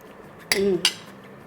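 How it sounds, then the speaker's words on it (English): A spoon scraping and clinking against a plate while mixing dhaba-style dal fry, two quick metallic clinks close up with a brief ringing tone between them. "so let me mix this up"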